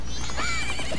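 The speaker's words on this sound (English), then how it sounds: "Liver Snap is the horse's name" Horse in the video game Zelda: Majora's Mask whinnies once, a short rising and falling neigh heard over a steady hum of background game sound.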